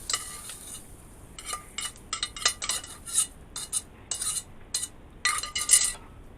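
A spoon scrapes and clinks against a pot while beef stew is stirred, producing a series of irregular metallic taps and scrapes in short bursts, fairly close and distinct.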